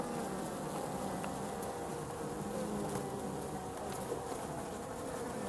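Honey bees buzz inside a hive fitted with a mesh floor, a steady close drone of many wings running through the whole stretch without a break.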